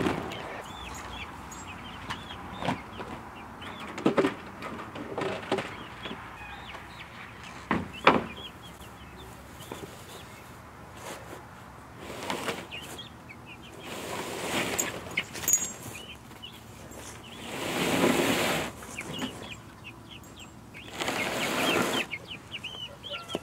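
Young Icelandic chicks inside a small wooden chicken coop give repeated high chirps and soft clucks, scattered irregularly with louder bursts, close by and without talk.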